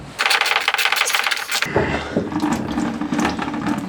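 Dirty, sticky coolant gushes from a Peugeot Boxer van radiator: a loud close splattering that starts with metallic clattering drips, then settles into a steady pouring stream.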